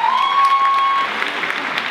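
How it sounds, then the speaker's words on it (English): A school audience applauds before a Hethersett Academy dance routine, a short stretch of steady clapping from many hands, with a sustained tone sounding over it for the first second before fading. "keep that applause going and welcome out the dancers from Hethersett Academy."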